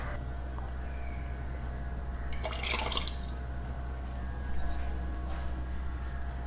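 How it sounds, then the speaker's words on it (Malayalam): Water is poured into a bowl of salted curd, two short splashy pouring bursts over a quiet, steady background hum. "ഈ പാത്രത്തിൽ ഞാൻ കുറച്ച് വെള്ളം ഒഴിച്ച് അതും കൂടെ ചേർക്കുന്നുണ്ട്"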